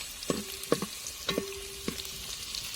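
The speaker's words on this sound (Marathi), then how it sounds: "गरम तेलामध्ये आपल्याला लगेच सोललेला लसूण टाकून घ्यायचा आहे" Peeled garlic and chilli frying in hot oil during village-style masala rice cooking: a steady soft sizzle broken by four sharp stirring knocks against the pan, close and alone with no talk.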